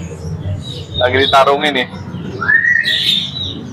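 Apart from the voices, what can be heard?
long-tailed white-rumped shama (murai batu) singing at a bird kiosk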